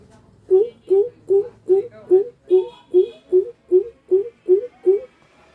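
Someone imitates a coucal with a dozen short, low, hollow hoots in a steady, even rhythm, close to the listener.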